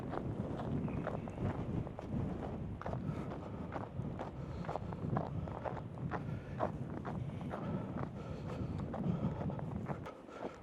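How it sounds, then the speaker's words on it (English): Strong wind gusts roar and buffet the microphone in a snowy Canadian forest, with a continuous rushing noise and occasional soft crunching footsteps. "It's very windy right now."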